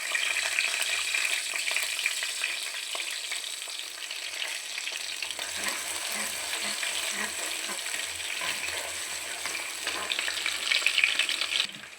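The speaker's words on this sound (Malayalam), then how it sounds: "അരിഞ്ഞു വെച്ചിരിക്കുന്ന വെളുത്തുള്ളി ഇടുകയാണ്" Chopped garlic frying in a hot pan, a steady bright sizzle that runs throughout, with light stirring noises and no talk.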